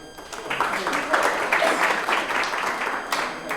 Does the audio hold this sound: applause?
yes